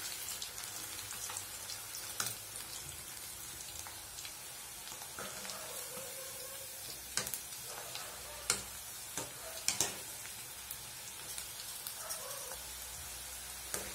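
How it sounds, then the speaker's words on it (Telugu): Battered cauliflower pakoda fry in hot oil, a steady soft crackle and hiss broken by scattered sharp pops and spatters across the whole stretch. "ఇలా వేసిన తర్వాత రెండు వైపులా తిప్పుతూ బాగా ఫ్రై చేసుకుందామండి గోబీని"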